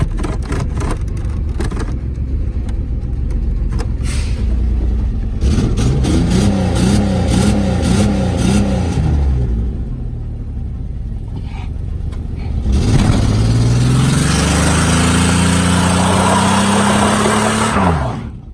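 A Chevy Camaro engine revs hard through burnouts, loud and close, with rising and falling pitch sweeps as the throttle climbs and drops, and a sustained high-rev stretch near the end.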